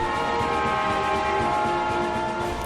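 A Qinghai-Tibet railway train crossing the high plateau toward Lhasa, its steady rumble and sustained horn-like tones filling the whole span, loud and continuous.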